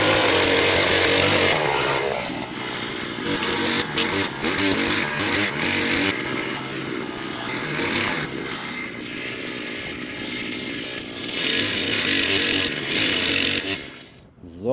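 A loud motorized power drill bores planting holes for fruit trees in an orchard meadow, its engine roaring steadily and close for the whole stretch before easing off briefly at the end.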